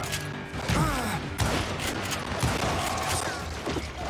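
Gunshots in Call of Juarez Gunslinger, the Western shooter, crack out in several loud bursts amid ongoing battle clatter and thuds, fairly close and dense over a few seconds.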